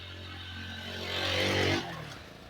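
A vehicle approaching from behind on a muddy off-road monsoon trail to Rani Jhari in Chikmagalur, its engine hum rising and swelling closer before easing off, heard alone.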